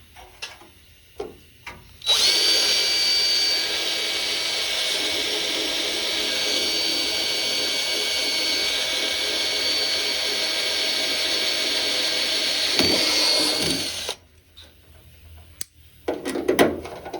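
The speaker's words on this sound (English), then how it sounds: "So right now I'm gonna be drilling these cleco holes" Power drill boring cleco holes through the firewall of a 1971 Dodge Charger, one steady loud whine running about twelve seconds after brief handling clatter, then stopping, followed by light metal knocks.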